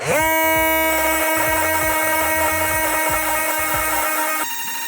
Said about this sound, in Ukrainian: Ну і під шумок спробую підпиляти цвях.